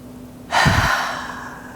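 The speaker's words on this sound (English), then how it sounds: "Take a full breath." One deep breath during a yoga twist, a sharp close inhale followed by a long, slowly fading exhale, alone and fairly loud.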